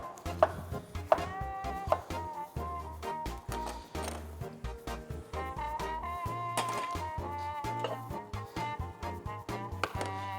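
A knife roughly chopping bell peppers on a board, irregular quick taps over tonal background music.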